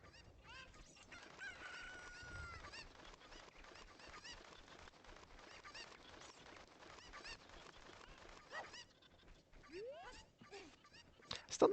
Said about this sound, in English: I don't need these chickens to cooperate at all.